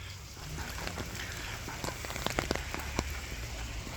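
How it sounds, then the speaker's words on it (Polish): Autumn rain falls steadily outside, a soft continuous hiss with scattered sharper drops tapping close by. "U nas pada, także aura jest taka bardzo w krateczkę."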